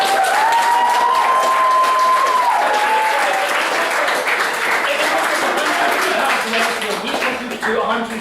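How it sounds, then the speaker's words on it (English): A comedy club crowd gives a performer a loud round of applause with some cheering, a full, sustained wash of clapping while a voice speaks briefly over it near the start. "Can we have a round of applause for Bobby Fox,"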